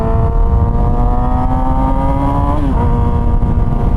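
A Yamaha R6 sport motorcycle with a cheap aftermarket exhaust drones steadily at high revs, then its pitch drops sharply as it shifts, loud and close with rushing wind noise.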